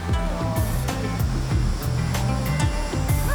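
A waterfall in a mountain barangay of Cebu City pours with a loud, unbroken rushing roar, full and close, with no voices over it.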